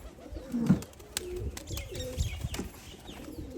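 Soft, low cooing of pigeons nearby, repeated at intervals, with faint chirps and rustling in the background.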